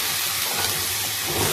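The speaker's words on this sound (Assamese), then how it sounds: "অকণমান ৰঙচুৱা হোৱাকৈ মই ভাজি লৈছোঁ" Vegetables fry in hot oil for winter khichdi, a close, steady hiss and soft sizzle with no voices, brief and even.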